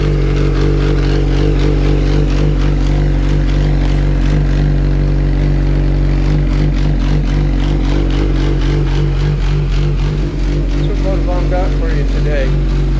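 A 2004 Yamaha R1 sport motorcycle running steadily on a ride, its engine a loud, close, continuous drone with slight rises in revs and rattly clatter over the whole stretch.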